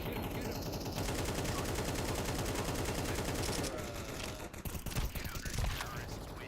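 Rapid gunfire rattles in a Counter-Strike 2 match, dense bursts of shots over mechanical clicks, then breaking into scattered sharper reports, with faint voices underneath.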